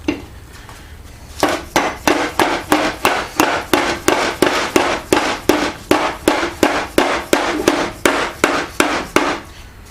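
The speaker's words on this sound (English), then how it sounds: "And I want to put it in backwards and give it a couple whacks." Repeated sharp hammer whacks strike an 8-inch Ash & Co. three-jaw lathe chuck jaw set in backwards, about two dozen evenly spaced metallic-wooden knocks in a steady rhythm, close and loud, with no talking.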